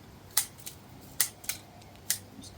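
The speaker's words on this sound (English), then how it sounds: "Just cut around the perimeter of the tree." Scissors cut around the perimeter of a juniper bonsai, giving about five quiet, crisp snips at uneven intervals, close by and with no talk.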